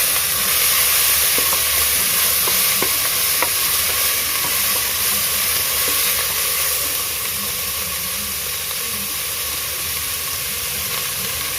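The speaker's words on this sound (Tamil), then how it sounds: "நம்ம எடுத்து வச்சுருக்க மசாலா, வெங்காயம் எல்லாத்தையும் ஆட் பண்ணிக்கலாம்." Masala, onions and coriander frying in oil for prawn biryani, a dense, steady sizzle and hiss that runs loud and unbroken, with a few faint stirring clicks and no voices.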